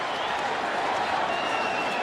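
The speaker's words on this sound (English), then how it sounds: "the crowd is up now. It's a Mexican crowd now." A Mexican crowd at a professional boxing match between Manny and Marquez roars and cheers in a steady, dense wash of noise from a large arena, with no single voice standing out.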